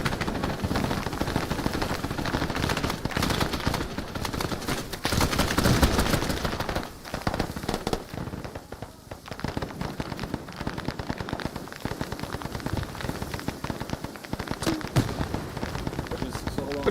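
Gunfire during a Vietnam training exercise comes in rapid rattling bursts and scattered pops, loud and sustained, with voices talking over the shooting.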